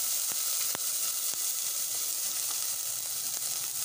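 Oil sizzles steadily in a pan while kachori filling is prepared, a continuous close frying hiss with a few faint clicks and pops and no talking.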